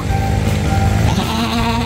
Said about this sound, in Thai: เราไปดูแกะไปดูแกะกันครับ